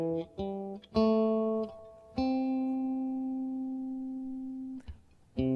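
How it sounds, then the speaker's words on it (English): A guitar plays a major pentatonic scale as a short run of clean single plucked notes, each ringing out in turn, with the last note sustained for a couple of seconds. "this is the major pentatonic scale"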